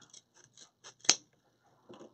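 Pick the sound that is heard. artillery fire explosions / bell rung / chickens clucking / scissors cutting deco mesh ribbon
scissors cutting deco mesh ribbon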